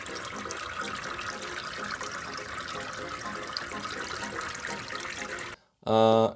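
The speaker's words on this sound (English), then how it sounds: "And now the water can flow out of these tiny holes." Water streams steadily out of tiny holes into a darkroom tray used for washing tintypes. The rushing, trickling flow is continuous and moderately close, and ends with a brief louder burst of a different sound.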